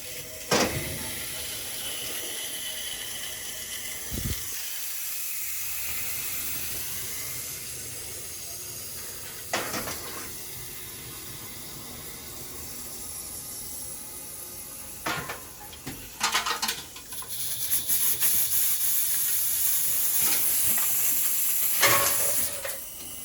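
Air hissing out of the water lines of a Weil McLain CGa gas boiler during installation, a long broad hiss with several sharp bursts and sputters, gradually strengthening toward the end.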